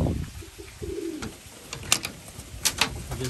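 Racing pigeons back from a 500 km yearling race give soft, low cooing calls nearby, a few rolling coos early on, with light chirps and rustling in a quiet loft.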